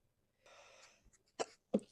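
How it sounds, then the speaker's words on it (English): A person sneezes or coughs in sharp bursts: a soft breathy sound, then two loud close explosive expulsions in quick succession, heard alone in a quiet room. "Your sneezes always comes in like 20s."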